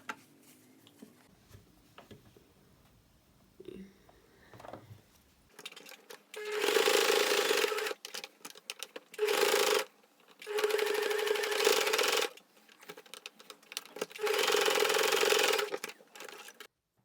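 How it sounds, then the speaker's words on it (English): Sewing machine topstitching denim cargo pants, running in four loud close bursts of a few seconds each, separated by short pauses, after a quiet stretch of faint handling noise at the start. "after flipping them, you're going to sew top stitch."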